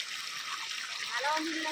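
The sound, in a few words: water flowing out from a motor pump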